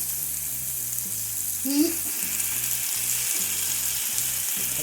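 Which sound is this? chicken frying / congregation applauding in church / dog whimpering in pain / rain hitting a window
chicken frying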